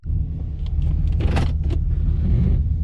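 Pontiac G8 GT idling while it warms up, a steady low engine rumble throughout with a few faint clicks and rattles near the car.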